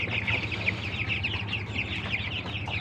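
Young chicks cheep and cluck softly in a continuous chorus while pecking leaves in a coop, with faint rustling beneath, steady and close.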